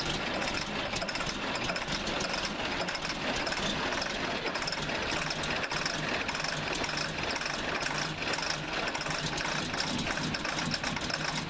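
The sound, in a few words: engine idling after cold start, exhaust leaks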